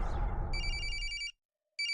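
A cell phone rings in the horror video game Corpse Party, a loud burst of electronic trills cutting over rumbling ambient noise, stopping, then starting again after a short silence.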